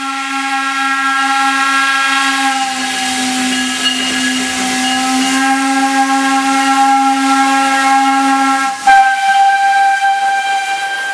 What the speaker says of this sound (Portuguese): A locomotiva a vapor, esse barulho dela, aquele próprio movimento das braçagens ali, o apito, o sino, a fumaça